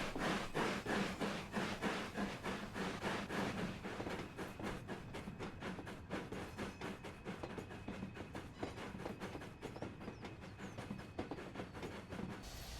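Rapid rhythmic chuffing and clatter of a steam locomotive running along the rails, a fast, even pulse of bursts continuing throughout, close and fairly loud with metallic clanks mixed in.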